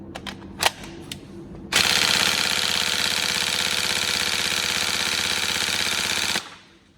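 A Tokyo Marui M4 CQBR next-generation airsoft electric gun fires a sustained full-auto burst of nearly five seconds. It gives a rapid, dense buzzing rattle at close range, preceded by a few short clicks and ending abruptly.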